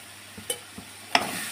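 Chicken pulao masala with chili powder frying in a pan while a spoon stirs it, giving a steady soft sizzle broken by a few sharp scraping knocks of the spoon, close and clear with no talk.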